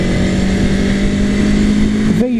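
An Aprilia Tuono Factory V4 motorcycle engine holds a loud, steady drone, near and continuous, then dips briefly at the end.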